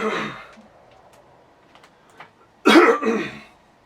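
A single rough cough sounds near the end, close and abrupt, after a few seconds of quiet with faint ticking.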